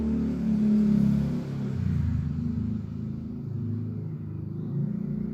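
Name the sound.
motorcycles passing by outside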